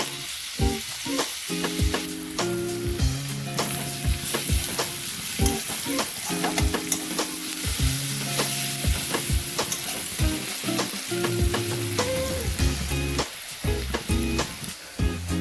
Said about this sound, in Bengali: পেঁয়াজ কুচিগুলো ভালো করে নেড়ে নেবো। এগুলো আমি হালকা গোল্ডেন ব্রাউন করে ভেজে নেব